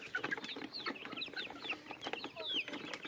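Young chickens cluck and chirp softly in a busy, overlapping chatter in a pen, fairly distant and faint, with no talking.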